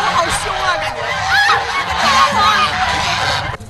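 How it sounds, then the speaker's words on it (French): Many white geese honk together in a noisy flock in northern Guizhou, China, calls overlapping continuously, with background chatter from people nearby. "Devant ce troupeau d'oies blanches, Jingxi ne sait plus quoi penser."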